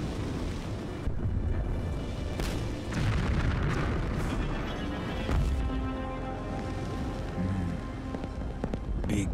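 Big guns firing in Just Cause 2 on a small island: deep booming blasts and rumbling explosions pile up under a rain-like wash, loud and dense, with a few sharper cracks standing out.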